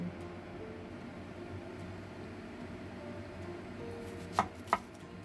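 Two sharp knife chops land close together near the end, after a stretch of quiet background hum, as a washed pear is cut open with its skin on.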